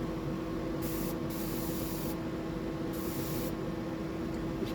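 Airbrush spraying paint for a mantis prawn pattern, a steady hiss that cuts in and out in several bursts of about a second each over a continuous low hum.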